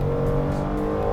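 Hyundai Staria 3.5 V6 engine holding a steady, loud, humming drone in a brief burst, heard from close by with no talk.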